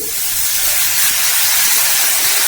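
Ragi dosa batter poured onto a well-heated pan gives a loud, steady, broad hiss of sizzling that holds evenly from start to finish, with no talking.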